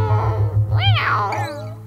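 A human voice imitates a cat, giving a couple of drawn-out, rising-and-falling meows over a steady musical backing from a children's song.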